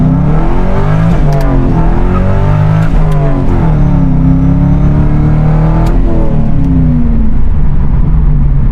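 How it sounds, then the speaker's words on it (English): A naturally aspirated LS6 V8 sports car revs hard and accelerates, its loud engine note climbing in pitch repeatedly through several gear changes, close and unbroken. "naturally aspirated V8 LS6"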